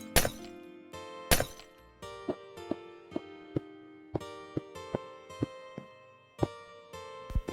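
Glass window blocks are broken one after another in the Minecraft video game, making a series of sharp crashing shatters followed by a run of lighter clinking hits at a regular, quick pace.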